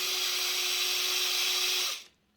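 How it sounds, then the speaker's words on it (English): Electric drill fitted with a mixing bit stirring a pot of paint, a steady high-pitched whirring motor whine held for about two seconds before spinning down abruptly, close and alone. "This is just a mixing bit that goes in the end of your drill."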